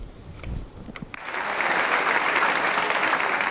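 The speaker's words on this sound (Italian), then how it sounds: "Oltre 10 minuti di applausi a scena aperta hanno sancito il trionfo della Traviata di scena ieri sera al Comunale di Treviso" Opera audience at Teatro Comunale di Treviso applauding La Traviata: scattered claps build after about a second into dense, sustained applause from a large crowd that fills the hall.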